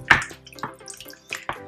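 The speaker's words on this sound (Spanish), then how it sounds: "Yo creo que voy a echar un poquito más de agua" Water is poured into a pot of potato and pork rib stew, giving irregular splashes and gurgling bursts, close and fairly loud, with no voices.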